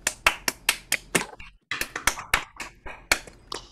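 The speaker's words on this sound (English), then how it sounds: "let's do a clap for Jash and Deep" A small audience gives a short round of clapping, sparse individual claps in an uneven rhythm with a brief pause midway, close and fairly quiet.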